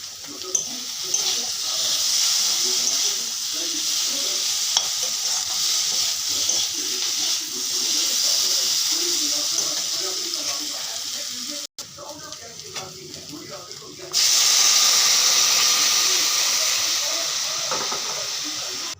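Hot water poured into a pan of frying spices, sending up a loud, steady steam hiss that dips briefly and then surges louder near the end.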